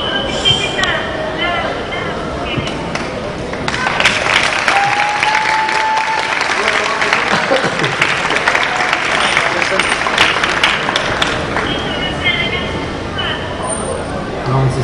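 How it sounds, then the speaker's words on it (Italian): An audience applauds for Rostagno at a comic-book presentation in Trapani, heard through a phone held to a microphone; loud clapping swells in after a few seconds and continues, with voices before and around it. "l'applauso per Rostagno, l'applauso per lei"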